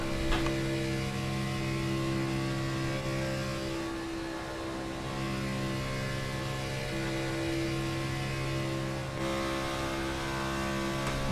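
An Xfinity Series race car engine in a racing game runs at part throttle, heard on board as a steady, loud droning hum with little change in pitch throughout, alone without talk.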